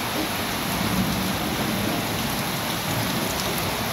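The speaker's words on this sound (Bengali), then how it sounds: "সুন্দরবনের বৃষ্টি আসলে উপভোগ করার মতো" Steady rain falls across the Sundarbans mangrove forest, a dense, even hiss of drops that runs unbroken and fairly loud with no voices over it.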